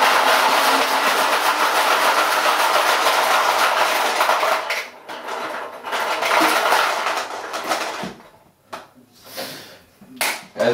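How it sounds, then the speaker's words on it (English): Paintballs pour into an Empire Magna sound-activated hopper as its motor turns, making a dense, continuous rattling clatter up close that breaks into scattered clicks and short rattles toward the end. "as soon as you pour paintballs in, it will start turning the motor because it can hear it"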